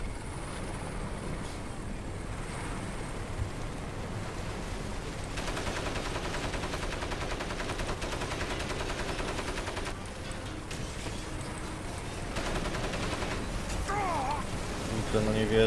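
Rapid bursts of gunfire crackle over a constant droning helicopter roar in the game Crysis, busy and loud throughout, like a chaotic battle scene.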